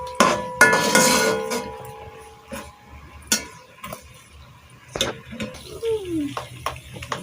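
Vegetables tipped into a pan of boiled chicken and stirred, producing sharp clanks and scrapes of a utensil against the pan in irregular bursts, with a light sizzle underneath.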